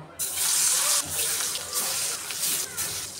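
Rohu fish pieces drop into hot oil in a wok and burst into a loud, hissing sizzle that settles into steady frying with small surges.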